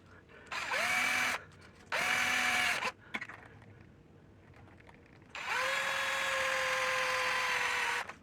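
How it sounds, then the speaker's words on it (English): A power drill bores a pilot hole for a screw in a kitchen drawer, running in three whining bursts, two short and one longer, with a sharp click between them, close and loud. "I just basically am making a pilot hole for the screw"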